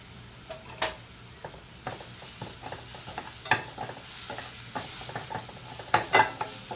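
Ginger-garlic paste frying and being stirred in a pan for a ridge gourd dish, with soft steady sizzling broken by irregular scraping taps of the spoon against the pan, close and fairly quiet, no talking.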